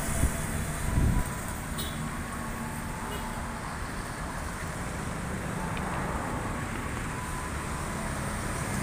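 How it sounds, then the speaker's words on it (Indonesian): A train rumbles past near Batu Ceper railway station, a steady, moderately distant roar of rolling wagons mixed with street traffic, with a brief thump early on and no talk. "Di dekat stasiun Batu Ceper guys. Itu stasiun Batu Ceper ya."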